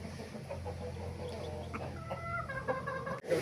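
A fighting rooster clucks in a series of short, close calls against a steady background hum, with a brief louder squawk near the end.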